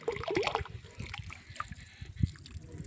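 Dirty water draining and trickling out of a container during a makeshift cleaning job, with uneven gurgles and small splashes close by and a faint voice in the background.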